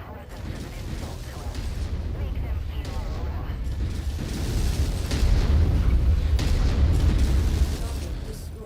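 Missile barrage from a mech in MechWarrior 5 slamming into an enemy Shadowcat, a dense rumbling roll of booms and bursts that swells louder midway, with a voice talking over the blasts.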